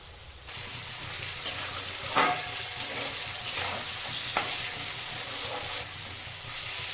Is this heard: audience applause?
no